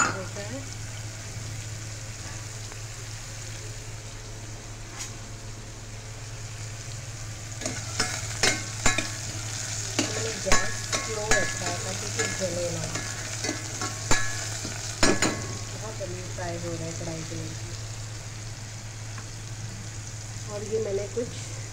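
Soybean chunks sizzle and crackle in a hot pan while a utensil stirs and scrapes in bursts; a voice speaks occasionally in the background.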